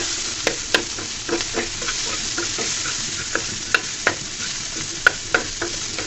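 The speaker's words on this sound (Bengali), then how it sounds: "পেঁয়াজ কুচি আর রসুন একসাথে দিয়ে দিলাম, দিয়ে সুন্দর করে লাল লাল করে ভেজে নিব" Chopped onion and garlic fry in a pan under a constant crackling sizzle, with repeated sharp spatula scrapes and taps against the metal at an uneven rhythm.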